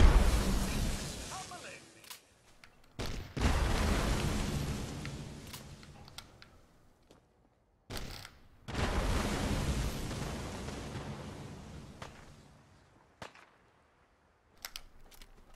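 Deep booming blasts from an M79 Thumper grenade launcher in Fallout 4, several heavy explosions each rumbling and fading away, separated by sharp clicks and short quiet gaps.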